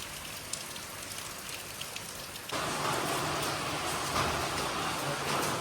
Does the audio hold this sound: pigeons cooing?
no